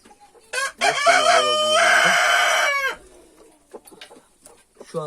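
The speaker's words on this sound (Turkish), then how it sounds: "Burada şu an üç tane mi horoz oldu?" A rooster crows loudly and close for about two seconds, followed by scattered soft clucks and faint bird chatter.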